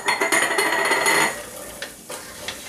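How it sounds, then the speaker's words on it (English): Onions and garlic stirred around in a cooking pot, a spoon scraping and clinking against the metal over a soft sizzle, busiest at first and then trailing off into a few scattered scrapes. "We're going to cook our onions and our garlic just for a minute or two. Just kind of Stir them around."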